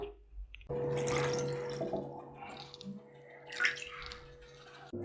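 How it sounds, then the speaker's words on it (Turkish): Two cups of milk are poured into cooled baklava syrup, making a steady splashing, gurgling stream close by for several seconds. "Hemen soğumuş olan şerbetin içine döküyorum."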